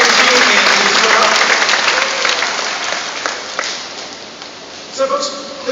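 Spectators at the Shedd Aquarium dolphin show clap in a loud, continuous burst that thins out gradually, with a few voices surfacing near the end as the applause fades.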